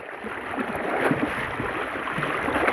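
A river surges past during a tidal bore, a steady rushing wash of water with gurgling swells that grows slightly louder, heard close and without voices.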